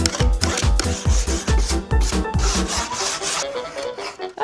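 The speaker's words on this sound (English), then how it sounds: "grab my wire brush and just like aggressively scrub it off" A wire brush scrubs aggressively across painted wood, producing loud, rapid rhythmic rasping strokes up close, about a dozen back-and-forth scrapes that slow and soften toward the end, with no voices.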